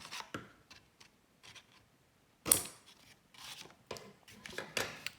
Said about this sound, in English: So just snip it.